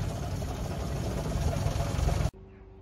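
Triumph TR6 with a petrol-injection engine idling at its standard speed of around 700 to 800 RPM, a steady low rumble that cuts off abruptly near the end, leaving quiet.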